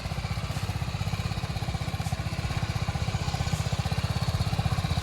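A BMW GS motorcycle riding in circles at full steering lock, its engine giving a steady throbbing pulse at low revs, close and continuous with no speech.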